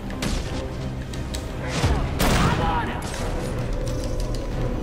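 Gunfire from the video game Batman: Arkham Origins, set in a steel mill, rings out as a dense, fairly loud volley of shots, with a sharper burst near the middle over steady game noise and music.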